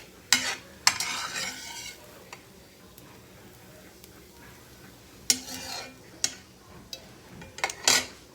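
Onions tipped into a soup pot and stirred, with scattered clinks and scrapes of a utensil against the pot over a faint simmer, a few sharper knocks standing out.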